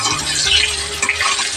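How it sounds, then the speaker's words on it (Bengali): Potatoes with salt and turmeric frying in oil in a wok give a loud, close, continuous sizzle, with a short stirring scrape partway through. "কড়াতে আমি তেল দিয়ে আলুটাকে ভেজে নিচ্ছি"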